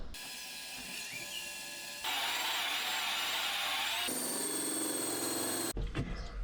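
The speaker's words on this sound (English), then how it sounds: "we now just drill out the holes for these to go through the van." Power drill boring holes through a van body for a diesel heater install, a steady high whine that shifts pitch in a few distinct stages before stopping abruptly.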